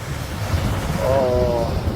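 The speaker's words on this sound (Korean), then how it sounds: "오늘 바다가 바람이 상당히 많이 붑니다." Strong wind blows across the sea on a cold day where surfers ride the waves, a loud steady rush of air buffeting the microphone, with a brief tonal whistle partway through.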